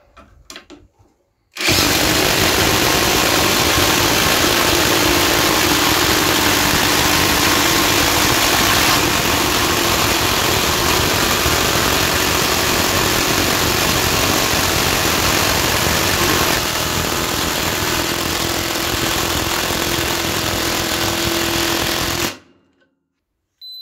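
A Parkside Performance PDSSAP 20 Li A1 cordless impact wrench drives screws with a loud, close, steady hammering whir that runs unbroken for about twenty seconds, then stops abruptly. No one speaks.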